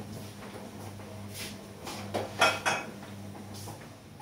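Baking dishes, a cake mould and utensils being cleared away in a home kitchen while making a blueberry cake, giving a few soft clinks and clatters over a steady low hum, with a sharper cluster of knocks near the middle.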